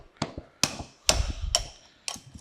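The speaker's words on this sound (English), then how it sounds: "Let's take a lead hammer here." A lead hammer strikes a steel punch to drive a pin out of an Emmert 6A toolmaker's vise: five sharp metallic blows at a steady pace, close up and ringing briefly.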